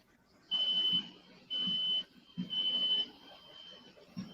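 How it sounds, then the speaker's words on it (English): A high electronic beeping repeats in long half-second pulses, steady and evenly spaced, somewhat faint as if coming from another room. "What is that beeping in the background?"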